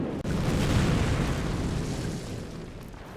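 Calliope rocket barrage striking in Company of Heroes, set during Operation Market Garden: a loud, continuous roar of overlapping blasts that swells early and slowly fades over a few seconds.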